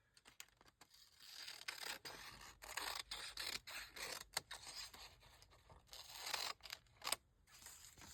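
Scissors cutting through paper for a scrappy notebook craft, a series of close, uneven snips and scraping rustles spread across the whole stretch, with no talking.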